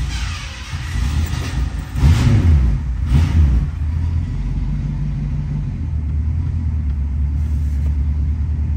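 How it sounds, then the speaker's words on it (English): A 1967 Ford Mustang Convertible engine cranks and catches, then settles into a steady, low idle rumble heard up close with no talking. "What I'm going to do now is start this one for you so we can listen to it"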